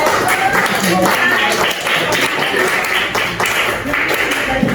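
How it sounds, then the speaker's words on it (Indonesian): A high school class at SMAN 9 Yogyakarta applauding at the end of an Indonesian language lesson, a dense, steady clatter of many hands clapping, with voices mixed in. "Tepuk tangan untuk kalian semua yang sudah"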